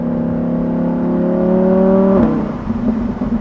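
A Lamborghini Huracan EVO with its 5.2-litre naturally aspirated V10 and RYFT exhaust revs hard, a loud rising howl that holds high, then cuts off sharply into a burbling idle.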